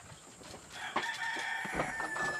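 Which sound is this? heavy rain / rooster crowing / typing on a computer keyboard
rooster crowing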